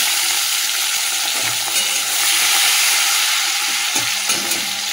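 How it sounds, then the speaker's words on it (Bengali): Shrimp fried in hot oil in a home kitchen, a steady close sizzle and crackle throughout with brief spatters and stirring scrapes, no talk. "মাছটা তেলের মধ্যে ভেজে নিই।"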